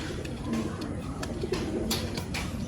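A pigeon in a loft of Haifa pigeons gives soft, low, repeated coos amid faint background noise, with no voices.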